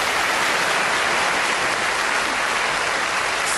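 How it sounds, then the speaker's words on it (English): A studio audience gives a big, continuous round of applause, a dense, even wash of many clapping hands that stays loud and unbroken from start to finish without any voices. "Give them a big round of applause, please."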